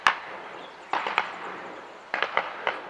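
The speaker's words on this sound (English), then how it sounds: "That's the sound of people shooting flying foxes," Scattered gunshots from people shooting flying foxes ring out at a distance, sharp cracks in irregular clusters over a faint outdoor background, with no talking.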